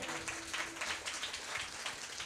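A church congregation claps loudly during a Telugu sermon, a dense, steady wash of hands that fills the room for a couple of seconds with no voice over it.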